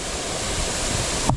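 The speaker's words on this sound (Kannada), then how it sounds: "ಎಳ್ನೀರು ಫಾಲ್ಸ್ ಇದು, ಎಳ್ನೀರು." Elneeru Falls in Chikkamagaluru sends down a steady, loud rush of water, a brief, continuous broadband roar heard close up without voices.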